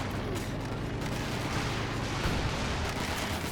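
Stuka dive bomber barrage in Company of Heroes 2, heard as a dense, continuous rumble of explosions and scattered gunfire at moderate loudness, with faint voices mixed in.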